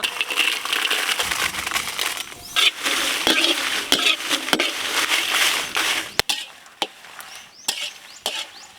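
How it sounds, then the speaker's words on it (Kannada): Byadgi chillies roasting and crackling in a hot pan for a Malnad pork curry, with steady sizzling, scraping stirs and sharp clinks of a spoon against the pan, loud and close with no talk. "ಬ್ಯಾಡ್ಗೆ ಮೆಣಸಿನ್ಕಾಯಿ, ಖಾರದ ಮೆಣಸಿನ್ಕಾಯಿ ಮೊದಲನೇದಾಗಿ ಹುರ್ಕೊಬಿಡೋಣ."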